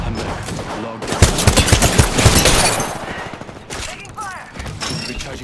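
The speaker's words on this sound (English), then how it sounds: "Taking fire!" Rapid automatic gunfire in the battle-royale shooter Apex Legends, a dense burst of close shots for about two seconds that then thins into scattered distant fire, with game voice callouts over the end.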